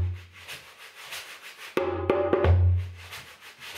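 Drumsticks scrubbed back and forth across a surface like washing dishes, a short burst of dense rhythmic rubbing strokes, close and fairly loud, between quieter background sounds.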